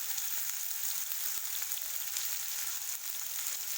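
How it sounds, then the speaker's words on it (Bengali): Pasta with salt and turmeric fries in a pan, a continuous fairly soft, even sizzle with faint crackles and no talking. "এটাকে খুব সুন্দর করে আমাকে ফ্রাই করে নিতে"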